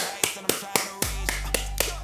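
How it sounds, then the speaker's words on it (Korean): Crisp, evenly spaced hand claps, about eight in quick succession, ring out close and sharp while a low steady hum comes in partway through. "박수 한번 칩시다."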